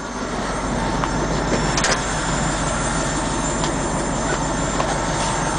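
A Ford F-Series box truck's 7-liter gas V8 idles steadily, a constant loud broadband rumble and whir with no breaks, heard up close throughout.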